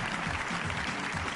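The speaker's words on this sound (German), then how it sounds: "Und jetzt hätte ich gerne einen donnernden Applaus" Thunderous audience applause at a David Copperfield magic show, a brief burst of dense, continuous clapping.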